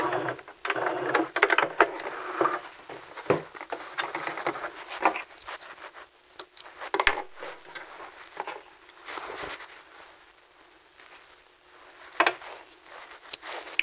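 A sewing machine stitches a vest seam and backstitches it, making a close, buzzy mechanical patter in uneven bursts that speed up and slow down, with short pauses and quieter stretches toward the end.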